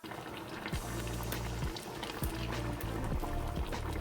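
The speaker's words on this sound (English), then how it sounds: "So I'm gonna let this simmer for about 30 minutes." Jamaican oxtail gravy enriched with butter and ketchup simmers in a pot, bubbling and popping steadily with thick liquid gurgles, close and continuous without speech.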